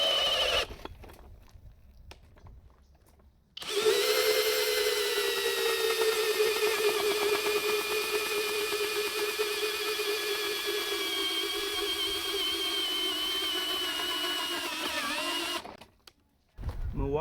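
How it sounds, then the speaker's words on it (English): A cordless drill runs in turbo mode at speed 2, boring through material in one long steady high-pitched whine of about twelve seconds, loud and close, with faint noise before and a sudden stop at the end. "We're just going to drill through and see how far they get."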